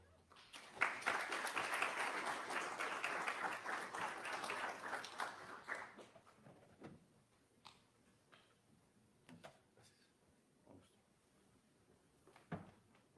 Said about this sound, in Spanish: le damos un gran, fuerte y ameno aplauso de bienvenida a Jaime Figueres Ulate